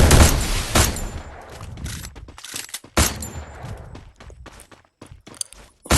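Gunfire in the Free Fire mobile battle game, loud blasts and rapid bursts of shots mixed with clattering footsteps and sharp impact cracks, close and dense throughout.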